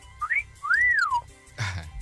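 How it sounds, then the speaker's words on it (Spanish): A two-part sliding whistle, a short rising chirp followed by a longer rise-and-fall tone, used as a sound effect in a radio advert for a pharmacy, heard close and clear with a brief noisy burst after. "y se oía un chiflido."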